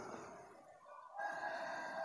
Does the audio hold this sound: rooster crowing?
yes